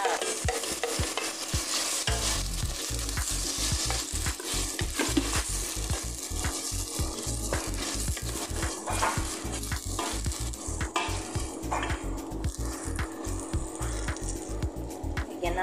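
Tomatoes and potatoes fry in a pan with a steady broadband sizzle, while a utensil stirs and scrapes in quick repeated strokes close by; no one speaks.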